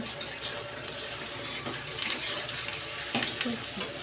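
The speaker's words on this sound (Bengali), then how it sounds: "জল ভরে দিচ্ছে" Water runs from a kitchen tap into a container during home cooking, a continuous close splashing stream with a few knocks and clatters, heard without speech.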